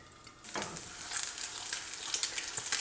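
An egg fries sunny side up under a lid in The Rock non-stick frying pan, giving a soft, steady sizzle with light crackles that swells after a quiet start and stays close and continuous.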